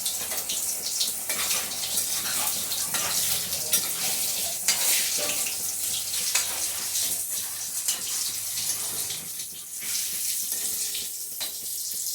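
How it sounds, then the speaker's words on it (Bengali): Potato and bread snacks fry in hot oil, giving a loud, steady, dense sizzle and bubbling that carries on without a break, with faint stirring or handling noises mixed in. "এরকমভাবে আমি সবগুলি ব্রেড দিয়ে ভেজে নিচ্ছি"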